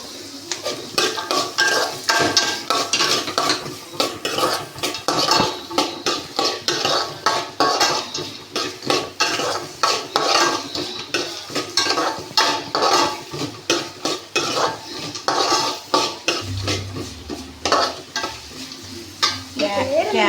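Carrots, onion and green chili sauté in a pan for an idiyappam pulao, with a steady sizzle under repeated scraping stirs and clinks of a utensil against the pan, loud and close.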